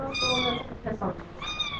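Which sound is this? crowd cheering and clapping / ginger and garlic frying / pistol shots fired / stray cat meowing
stray cat meowing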